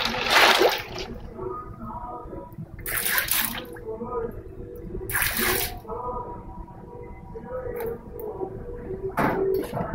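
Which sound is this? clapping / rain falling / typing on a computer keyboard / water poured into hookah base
water poured into hookah base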